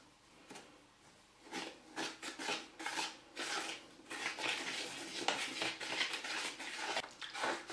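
Floor tile grout is mixed slowly in a bucket, a quiet gritty scraping and rubbing repeating in uneven strokes, close and without talking.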